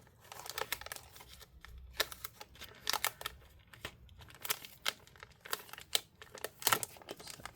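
Laptop LCD screen assembly of a CyberPowerPC C Series MS-1763 Fangbook being peeled open during disassembly, giving close, irregular crinkling and tearing bursts of adhesive and film, with sharp crackles scattered throughout and no talking.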